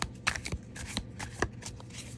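A deck of used tarot cards is shuffled by hand, giving quick riffling bursts and soft card slaps in an irregular rhythm, close and fairly quiet.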